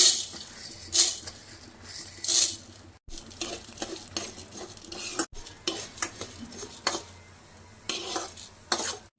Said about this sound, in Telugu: మన కడాయి అయితే బాగా హీట్ ఎక్కింది ఒక స్పూన్ ఆయిల్ పోసి మినపగుండ్లు వేయించుదాం